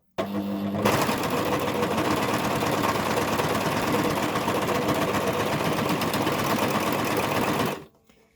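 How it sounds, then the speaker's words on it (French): An overlock serger sews and trims the edge of a piece of fabric, its built-in knife cutting off stray threads. The motor gives a fast, even, loud whir that runs steadily for about seven seconds, then stops abruptly. "le couteau de la surjeteuse va servir à couper automatiquement, pendant qu'on va passer la pièce en dessous, toutes les fils qui pourraient dépasser"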